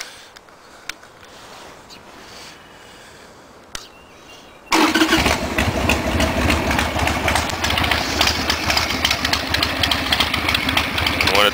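A Harley-Davidson Sportster motorcycle sits quiet for a few seconds, then the engine fires up abruptly and settles into a loud, close, rumbling idle with a rapid, uneven lopey beat.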